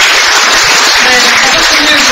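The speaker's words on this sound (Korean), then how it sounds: "가족분들 모두에게 온 국민을 대신해 따뜻한 격려와 위로의 박수 다시 한번 부탁드립니다." An audience at a Korean commemorative ceremony claps in sustained, dense applause, loud and close, filling the space evenly for a couple of seconds.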